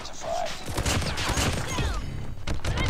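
A burst-fire SMG shoots in the mobile shooter COD Mobile, with rapid clustered shots and impacts packed together amid game effects, while a player talks over the action.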